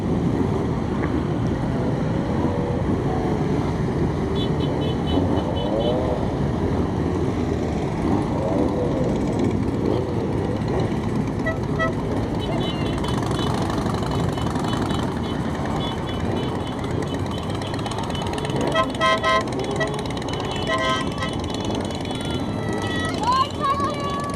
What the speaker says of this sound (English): That's if you can hear me over all the engines